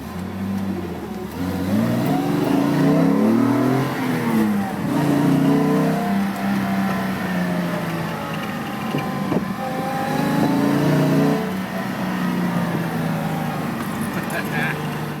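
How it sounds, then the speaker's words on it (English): A straight-six car engine revs hard through the gears, its pitch repeatedly climbing and dropping with each shift, loud and close, with people talking over part of it. "I didn't really know that a straight six could sound that good."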